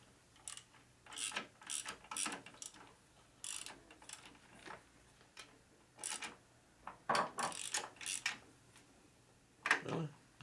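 A part on a 2001 Gilroy Indian motorcycle being tightened during a rebuild, heard as a string of close ratchet clicks in short irregular bursts with pauses between them, with no speech.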